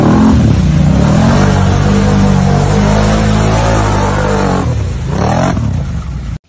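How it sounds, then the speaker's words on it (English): A toy-style ATV engine revs steadily at close range, a loud continuous roar that holds for several seconds before dropping off abruptly at the end. "ATV."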